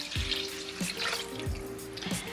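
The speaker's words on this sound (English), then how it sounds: "I'm also going to put in the 3 cups of" Water is poured into a pot of rice with its flavorings, three cups going in one after another, each starting with a distinct splash and then a steady close gurgling stream, without any talk.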